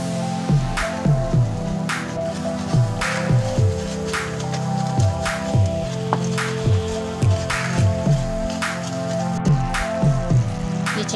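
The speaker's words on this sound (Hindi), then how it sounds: "ये चीनी को हमारा एक उबाला आ गया है।" Sugar syrup boils in a pan for butter cream candy, giving a soft bubbling and crackling sizzle with a regular rhythmic pulse, close and moderately loud, with no talking.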